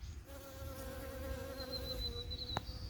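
Bees buzz around orange and bronze gazania flowers in a fall garden, with a close, steady droning hum that shifts slightly in pitch as they move, over faint outdoor background.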